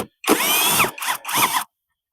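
Power tool driving a 10mm socket to remove bolts on a Mini Cooper R50/R52/R53 near the power steering pump, heard as one long whirring burst followed by two short ones, close and loud, with no talk.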